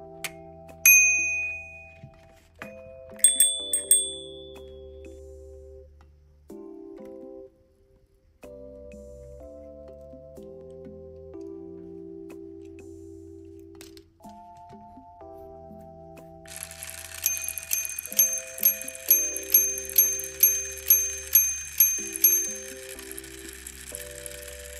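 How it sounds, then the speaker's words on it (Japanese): A homemade minute-repeater mechanism ticks and clicks as its racks and hammers move, with a few isolated dings early, then a rapid run of about a dozen bright chimes struck on bicycle bells. "鐘には今回も自転車のベルを使います。"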